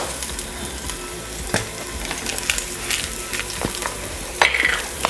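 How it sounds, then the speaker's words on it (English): Vegetables for minestrone soup sautéing in a pan, a loud continuous close sizzle with occasional clanks and scrapes from stirring. "And you just want to saute this for a couple of minutes."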